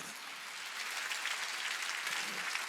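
Steady applause from a church congregation at a Sunday worship meeting, a dense even patter of clapping sustained throughout with no voices standing out.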